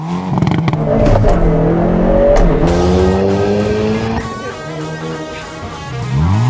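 A Hyundai Kona N in N mode accelerates hard, its engine revving up through rising, buzzy pitch sweeps with a brief tire squeal and a shift, loud and close, with no talking.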